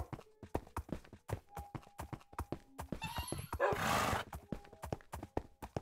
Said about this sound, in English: I'm gonna take the horse and the dogs up there